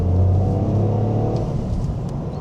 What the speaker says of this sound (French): lorsqu'on appuie sur l'accélérateur de la Corolla GR, on remarque deux choses.